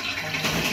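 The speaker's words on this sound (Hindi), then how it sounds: "अब मैं इसके अंदर थोड़ा सा पानी ऐड करूंगी" A little water is poured into a mixture while cooking a chicken spring recipe, a brief steady splashing pour that sounds close and fills the short moment alone.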